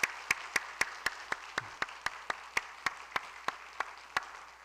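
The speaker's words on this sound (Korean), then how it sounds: "여러분 마음껏 우리 박수로 뜨겁게 축복합시다" A church congregation at a Sunday worship service claps in a steady, even rhythm, each sharp clap evenly spaced and fairly close, with no talking over it.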